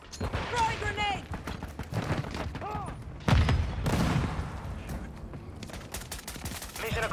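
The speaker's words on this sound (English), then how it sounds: "Effective fire. Throwing flash grenade. Throwing grenade." Video game firefight with bursts of gunfire and grenade blasts, including a flash grenade, loud and dense throughout, with a heavier boom partway through, mixed with game voice callouts.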